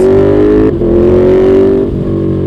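A loud, close KTM 1290 Super Duke motorcycle engine with a Stage 1 exhaust holding a deep, raspy rev with a slight dip partway through, steady and rough throughout.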